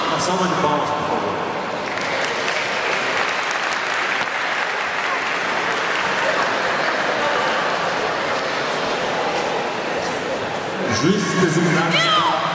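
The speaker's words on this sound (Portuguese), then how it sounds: "Uma salva de palmas, por favor." Sustained applause from a crowd at a Kyokushin karate kata competition final, dense steady clapping lasting several seconds, with a voice over a loudspeaker near the end.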